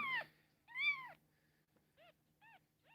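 A week-old kitten gives a loud, drawn-out meow followed by a string of shorter, higher mews, close and clear against a quiet room with a faint hum.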